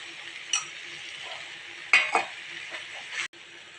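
Chickpea curry being stirred in a hot pan after garam masala goes in: a steady close sizzle with a few scraping strokes and clinks of a spoon against the pan, no talking.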